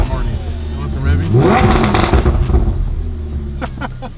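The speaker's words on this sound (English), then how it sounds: "They want some revving?" A Lamborghini engine revving, a loud throaty roar that climbs in pitch, peaks and falls back to a rumbling idle, close by, with crackling pops near the end.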